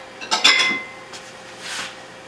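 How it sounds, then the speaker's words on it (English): Pad thai noodles being served into a big bowl, with a few close clinks and clatters of utensils against dishware followed by a softer scrape. "Serve it, big bowl size."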